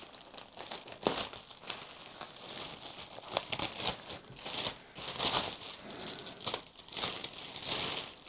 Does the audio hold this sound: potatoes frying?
no